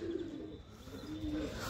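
Pigeons cooing softly, two brief low coos under faint background hum, fairly quiet and close.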